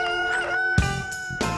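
A rooster crows nearby, a clear harmonic call with brief clucking bursts, heard alone without talk.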